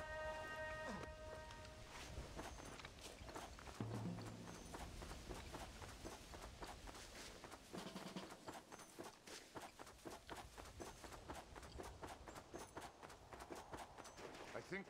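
Horse hooves clopping in Red Dead Redemption on PS5: a steady stream of hoof steps at a walking-to-trotting pace, moderately close, over soft outdoor ambience, with a brief voice near the start.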